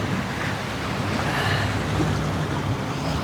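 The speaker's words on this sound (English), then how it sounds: "helping to drive this boat as we head into one of these famous caves" A boat moves on a river into a cave, giving a steady wash of churning water and wind rush, close and continuous without talk.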